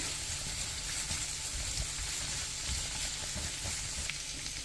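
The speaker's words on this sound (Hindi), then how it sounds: "अब इसमें हम उबले हुए आलू ऐड कर देंगे और इसको अच्छे से मिक्स करेंगे।" Boiled potatoes are stirred into masala frying in oil, giving a continuous soft sizzle with light scraping and stirring, fairly quiet and close, with no voices.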